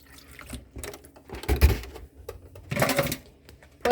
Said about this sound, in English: I'm just going to pour some milk on it.